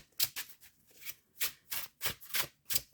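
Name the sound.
shuffling tarot cards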